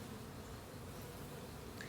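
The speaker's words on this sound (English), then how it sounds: "that bee wasn't very happy with me" Honey bees buzz steadily and densely around a hive frame being pulled from a beehive, a continuous close swarm drone with no talking.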